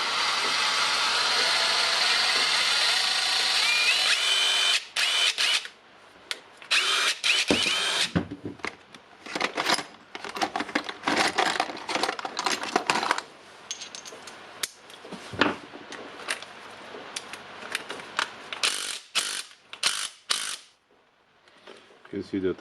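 A Dewalt DCF887 brushless impact driver, just repaired for an intermittent switch, runs in a steady whir for about five seconds, then stops and starts in short bursts with clicks and handling noise, speech faint in between.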